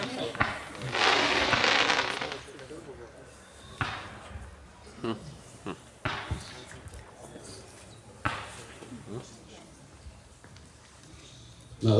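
Several fireworks go off at intervals during a fireworks test firing, one sustained crackling burst followed by sharper single bangs and pops spread out with quiet gaps between.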